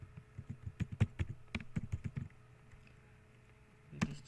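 Close typing on a computer keyboard while a router redistribution command is entered in Cisco Packet Tracer, a quick run of key clicks followed by a pause and then one more keystroke.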